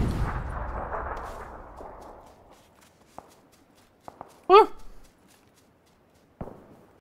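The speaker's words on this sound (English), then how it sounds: "This man's getting shot at." Gunfire in the battle royale video game PUBG: a low rumbling burst at the start fades away, followed by a few sharp isolated shots and a loud tonal crack partway through, then another distant shot.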